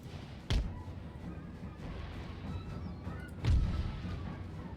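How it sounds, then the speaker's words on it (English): Artillery fires in the Empire Total War battle game, with two deep, booming shots a few seconds apart over a low, rumbling battlefield ambience. "We got the artillery firing over on these units."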